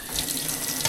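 Water runs from a tap in a short, steady, close gush with a splashing, filling quality and no pauses.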